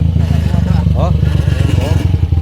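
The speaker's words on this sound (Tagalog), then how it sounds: "Tumutunog-tunog na yung motor. Mukhang sira na." A motorcycle engine idles with a steady, rough rattling chug, close and loud throughout, with faint voices mixed in; the engine is damaged and smoking.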